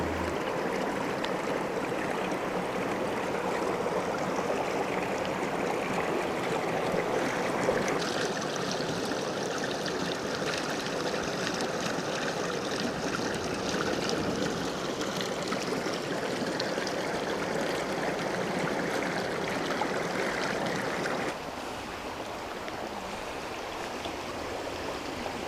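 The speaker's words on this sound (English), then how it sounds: "Check out the creek back there and hear that water flowing." Steady creek water rushing and trickling over rocks near a log by a hiking trail to Cataract Falls in the Great Smoky Mountains in winter, a continuous close, even flow with no voices, its tone shifting slightly partway through.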